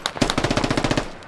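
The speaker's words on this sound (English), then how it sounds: "I hear him shoot." Automatic gunfire from the military shooter game Squad crackles in one rapid, evenly spaced burst of about a dozen shots, fairly close and loud, with no talk over it.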